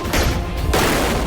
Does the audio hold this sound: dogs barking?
no